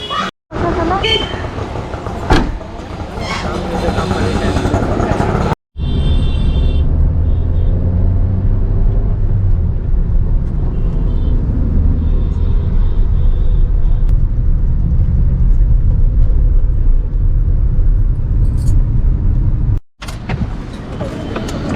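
A large seven-seat passenger vehicle carrying a family drives along the road, heard from inside as a steady low rumble with road noise, with people talking over it.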